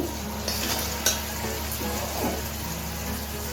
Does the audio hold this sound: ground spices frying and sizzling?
yes